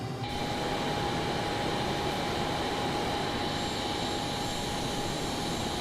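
A Boeing F/A-18 Navy jet in Microsoft Flight Simulator 2020 roars with a constant, dense engine drone and a steady high whine, loud and unbroken from start to finish with no voices.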